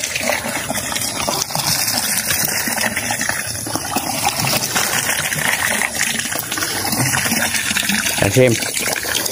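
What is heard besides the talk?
water poured from a bucket for a cow to drink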